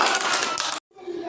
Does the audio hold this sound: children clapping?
yes